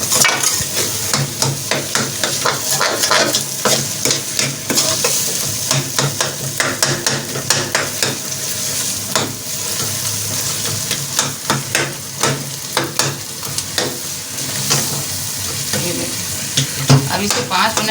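Baingan bharta, mashed eggplant with green chillies and fresh coriander, being stirred in a pan: steady scraping strokes and spoon knocks over a continuous soft sizzle, close and fairly loud, with no talking.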